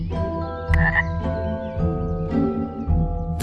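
Frogs croak steadily in a marshy place, a dense chorus of repeated rasping calls at close range with no voices.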